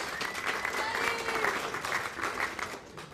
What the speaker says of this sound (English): Round of applause for Buddy, the mayor, of course.